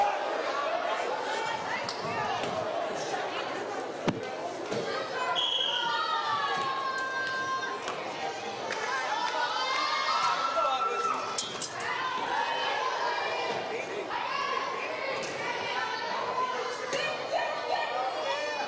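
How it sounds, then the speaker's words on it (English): A loud crowd fills a gym at a senior night volleyball game with constant cheering and chatter, scattered ball thumps and sharp clinks, while a commentator talks over the din. "You can really hear how loud the crowd is tonight."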